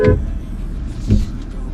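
A BMW luxury SUV drives fast on a slippery, flat snowy road, with a steady close engine and tyre rumble and a couple of brief swells.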